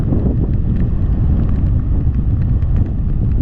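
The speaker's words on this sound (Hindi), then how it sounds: "बहुत ही तेज़ हवा चल रही है यहाँ पे" A strong monsoon wind on the coast at Udupi, India roars and buffets the microphone with a constant low rumble, steady throughout and loud.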